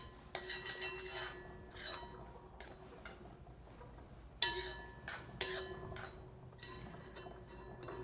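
A metal ladle clinks and scrapes against a hot iron kadai while chicken gravy cooks, with irregular sharp metallic taps and scrapes, close and moderately loud, over a steady low background hum.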